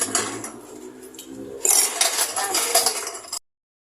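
Clinking dishes, cutlery and a casserole pot being washed in a sink after breakfast, with steady rattling and clattering close by that grows busier partway through, then stops abruptly.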